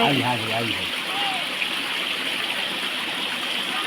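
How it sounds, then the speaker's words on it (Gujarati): A rainwater stream rushing through a wooded outdoor spot, giving a steady, dense gushing wash throughout, with a voice briefly heard at the start. "આ પાણી ક્યાંથી વરસાદનું આવતું હશે"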